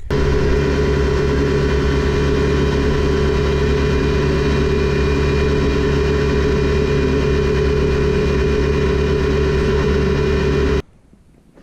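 A UTV engine on a test ride at speed, a loud, steady low drone and roar that holds for about ten seconds before cutting off abruptly.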